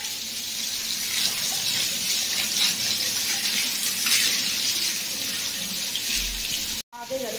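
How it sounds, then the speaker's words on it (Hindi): Running water splashes onto the floor as a house is washed down, a loud, steady rushing spray that continues until a brief cut near the end. "घर धो रही मेरे सफाई कर रही राधा"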